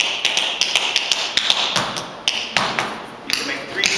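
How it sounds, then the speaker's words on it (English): Tap shoes tap out a sparser pattern of toe and heel strikes, sharp clicks mixed with a few duller thuds, spaced unevenly and heard up close. "There's toe taps and there's heel taps."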